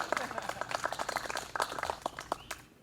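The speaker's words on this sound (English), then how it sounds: "Can I begin by congratulating these two right here with a round of applause?" A small group applauds graduates, a short burst of brisk, fairly close clapping of uneven rhythm.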